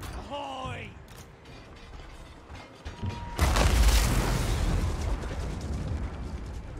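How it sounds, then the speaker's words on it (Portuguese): A cannon fires in the battle game Total War: Warhammer II with a heavy, booming blast that follows a stretch of quieter battle noise and is under a voice. "O barulho desse canhão é ensurdecedor, velho."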